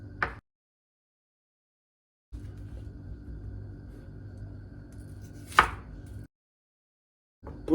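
A knife chops through the white part of a leek-like vegetable on a board, with a few sharp isolated cuts separated by silence and a low background rumble between them, close and fairly quiet, no talking.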